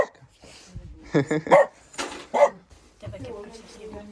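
A dog barks in the snow in a few short bursts near the middle, mixed with people talking nearby, moderately close but partly covered by the voices.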